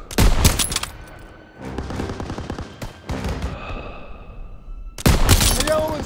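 Machine gun fire in a Call of Duty WWII battle, with loud bursts of gunfire at the start and end and lighter shots and battle noise between, voices shouting over the fighting.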